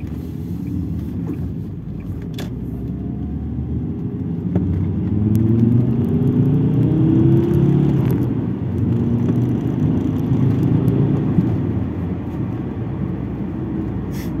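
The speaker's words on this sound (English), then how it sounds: "Let's let this car pass." An Alfa Romeo 166 approaches and passes with a rising, then fading engine rumble over steady low road noise, no voices.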